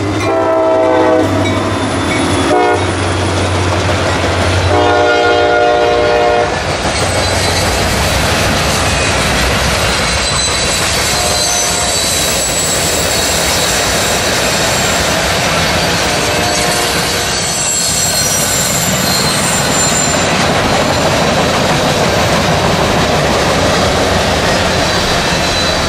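Local passenger train A762 rolls past on a winter mid-morning, loud and near, with a long horn blast in the first seconds and steady wheel and car rumble continuing to the end.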